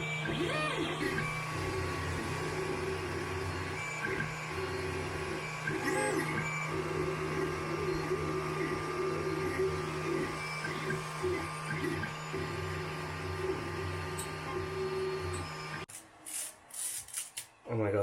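A 3D printer printing a TPU baby shoe runs with a steady mechanical hum and scratchy, rasping head movement throughout, fairly loud and continuous, before stopping near the end, leaving brief clunks.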